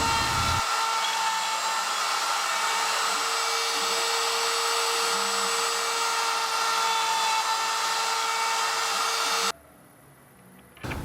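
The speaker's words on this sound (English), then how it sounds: "Both start out with a 1/4-inch spiral bit in the CNC machine, boring 3/8 diameter holes." A CNC router fitted with a 1/4-inch spiral bit bores 3/8-inch holes in table leg stock, giving a steady high-pitched whine that holds level for about nine seconds before dropping away near the end.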